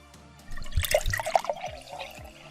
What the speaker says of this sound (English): You hear the sound of water spilling out of the crack.